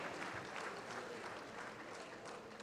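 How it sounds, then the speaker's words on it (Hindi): Audience applause at a regional official language conference award ceremony in India, steady sustained clapping from a crowd throughout, moderately distant and without talk over it. "जोरदार तालियों से पुनः स्वागत कीजिए"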